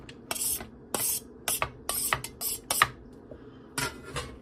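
Spoon scraping sliced mozzarella cheese from a dish into leftover pasta: a run of short, soft metallic scrapes and clinks in an irregular rhythm, close and quiet, with no voices.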